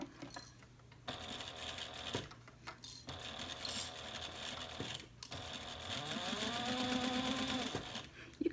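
A sewing machine stitches down the side of a fabric pocket in short runs of quiet, fast mechanical whirring, broken by pauses where it stops to pivot, with faint handling clicks in between.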